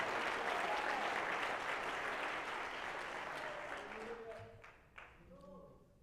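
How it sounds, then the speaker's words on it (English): Congregation clapping hands together during a church service, a dense, steady wash of applause that gradually thins and fades, with a few voices calling out near the end. "Clap your hands to the Lord."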